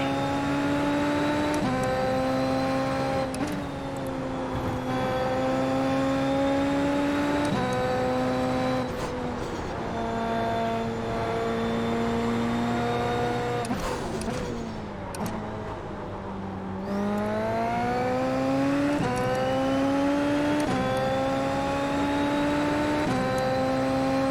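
Super Formula race car engine in iRacing at Fuji, a loud continuous high-revving whine climbing through gears with sharp shift breaks and a dip under braking before accelerating again.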